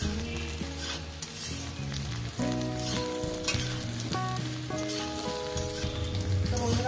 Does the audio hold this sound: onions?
yes